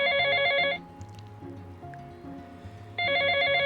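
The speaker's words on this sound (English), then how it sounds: "His phone buzzed again, another call from Jungkook." A phone ringing with an incoming call, a bright electronic ringtone pattern that plays, stops under a soft rainy background, then starts again, close and clear.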